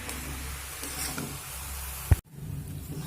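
Sugar syrup for chana dal motichoor laddu is stirred in a pan over a medium flame, giving a steady sizzling hiss with one sharp knock near the end before it briefly cuts out.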